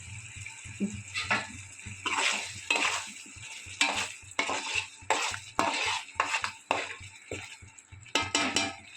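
A spoon scrapes and stirs through a pot of Kongu-style oil eggplant gravy as salt is mixed in, making repeated close, uneven strokes with light metallic clinks over a faint low hum.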